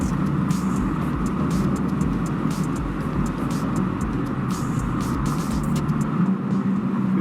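A BMW M4 Competition xDrive Convertible cruises on the highway at about 78 to 79 mph, a steady low engine and road rumble with wind hiss from inside the cabin and no talking.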